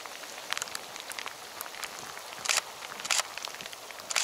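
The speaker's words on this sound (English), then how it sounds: "it's raining more" Steady patter of rain at sea with scattered drops and occasional louder splashes, a continuous wet hiss throughout, on a passage to Ponta Delgada.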